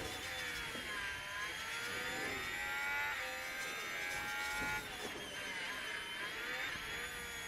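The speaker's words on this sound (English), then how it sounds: "It felt like I heard the engine" Racing car engines in the F1 23 Manager game at the Abu Dhabi Grand Prix whine and rise and fall in pitch as cars pass, a layered, continuous high mechanical drone.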